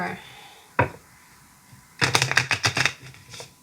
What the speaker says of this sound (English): I'm just going to give it a quick shuffle. Sorry, this gets a little loud.